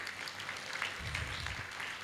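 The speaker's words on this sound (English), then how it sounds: "Can we have huge round of applause for Dr." Audience applause at a Gujarat business excellence award ceremony, soft and distant, a steady patter of clapping with a low rumble in the hall.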